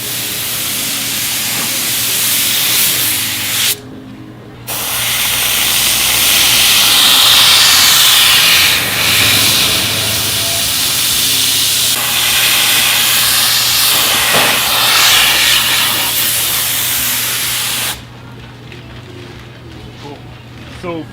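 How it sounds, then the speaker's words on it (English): Aerosol contact glue hisses in long, steady bursts while being sprayed onto the surfaces of jet ski tray mats. The spray is loud and close, with a brief pause early on, and stops near the end. "So basically we're spraying both surfaces, then it needs to dry."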